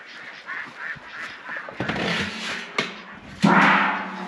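Five or six ducks kept in a pen with chickens on a small farm give a few quacks, some soft and some louder and harsher, over light background clatter.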